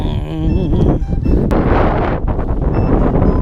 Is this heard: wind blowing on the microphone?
yes